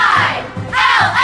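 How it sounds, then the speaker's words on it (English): New Philadelphia Quakers cheerleaders lead a school cheer with the crowd at a Dover vs. New Philadelphia boys high school basketball game, loud chanted syllables ringing out in rhythmic shouted bursts that echo through the gym. "It's time for a Quaker Cheer from your Quaker Cheerleaders"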